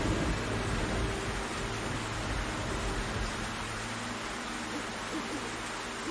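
Steady rain hisses in the Black Mirror 3 video game, a constant soft wash of noise with a faint low rumble beneath, no clear voices.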